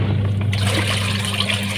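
A semi-automatic washing machine washes with detergent, water rushing and churning with a low mechanical hum underneath, a steady loud wash that brightens partway through.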